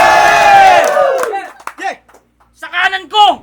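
Loud crowd at a Tuligsalitaan rap battle in a KTV bar, roaring and cheering for about a second and a half, then scattered shouts and bursts of cheering in short waves.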